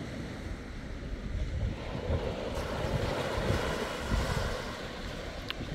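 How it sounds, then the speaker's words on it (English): Ocean surf washes steadily onto the shore at Utah Beach in Normandy on a falling evening tide, a continuous broadband rush with gusty wind noise against the microphone and no voices. "the tide is definitely going out here at Utah Beach"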